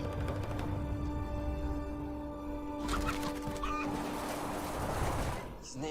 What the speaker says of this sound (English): Very strong rooster.